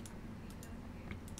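Computer keyboard typing in a quick, continuous run of soft key clicks over a steady background hum, heard close and without talk.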